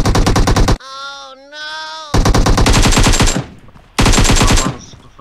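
Rapid automatic gunfire from the PUBG Mobile shooter game comes in loud sustained bursts with short pauses between them, a tonal whine sounding in one gap, with no talk over it.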